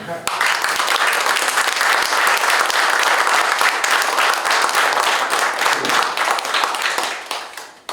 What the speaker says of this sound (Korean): 박수 한 번만 더 드려야 될 것 같아요